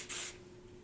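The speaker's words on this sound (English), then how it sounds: "I am going to spray it at the end just so it can last for the next 3 days" Hair spray misted onto styled hair in one short, soft hiss lasting a fraction of a second, close and alone, fading into quiet room tone.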